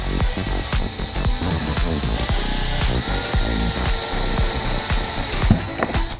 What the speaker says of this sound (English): we'll go ahead and do an 1/8 inch pilot hole first, just to find our center point